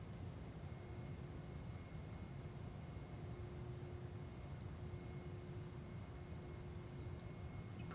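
Propeller airplane engine in MS Flight Simulator, throttled back on final approach to landing, a steady low droning hum with airy broadband rush, even and continuous throughout with no voices.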